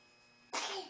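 A child sneezes once indoors, a short, bright burst that bursts out of near silence and fades quickly, close and moderately loud.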